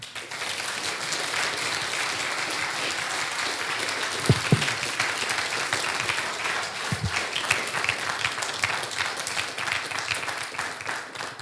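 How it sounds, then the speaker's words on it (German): A large audience bursts into sustained, dense applause to welcome a speaker at a German-language public hearing event, steady clapping filling the room for several seconds with no talking. "Bitte heißen Sie ihn mit einem bombastischen Applaus willkommen"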